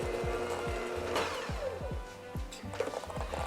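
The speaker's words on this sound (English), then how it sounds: "we'll add 2 yolks at room temperature and half a teaspoon of vanilla. And we'll beat this for 1 minute." An electric mixer beats room-temperature egg yolks and vanilla into French sablé cookie dough, giving a steady whir broken by repeated rhythmic swooping pulses as the beaters churn, close and alone.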